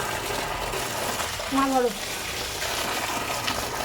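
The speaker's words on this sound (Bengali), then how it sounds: "যেখানে সবজি টবজি ধোয়া হচ্ছে ঠাকুরে।" Water runs steadily from a tap as vegetables are washed at a temple kitchen, a constant gushing wash under the whole stretch while a voice speaks briefly over it.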